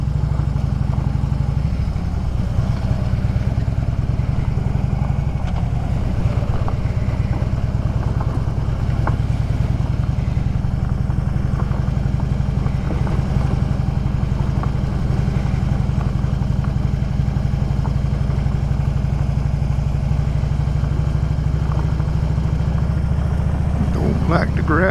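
A vehicle rolls along a gravel road past crawfish ponds, its engine droning steadily and loud throughout with a constant low rumble of tires, and no talking over it.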